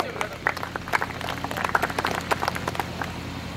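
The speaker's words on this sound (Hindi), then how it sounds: "एक बार जोरदार तालियां बजा दीजिए।" Scattered audience clapping at a poetry gathering on communal harmony in Gauriganj, Amethi: light, uneven claps from a crowd over a low hum, fairly faint and spread across the whole stretch.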